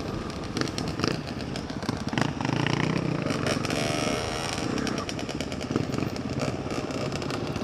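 A CCM motorcycle rides past on a road, its engine loud and close with a rough, crackling exhaust and rapid popping pulses that rise and settle over several seconds.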